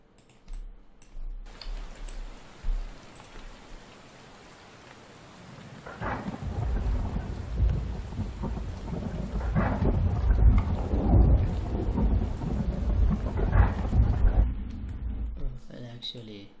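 Thunder from an Unreal Engine thunder and lightning effect builds after a quieter start into a heavy rolling rumble with rain, with a few louder cracks, then fades near the end.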